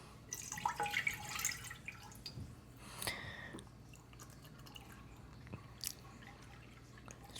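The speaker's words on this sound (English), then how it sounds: "we have our 8 cups of milk, and now we're gonna add that into our stock pot" Eight cups of milk poured into a stock pot to make homemade Italian cheese, a soft, faint liquid splashing and trickling that is strongest in the first two seconds and then thins to quiet dribbles.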